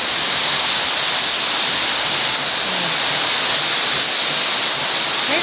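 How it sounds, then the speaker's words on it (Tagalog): A super typhoon in the Philippines drives strong wind and heavy rain as a loud, unbroken roar, close by and continuous throughout. "Kita nyo, talaga lumilipad yung hangin,"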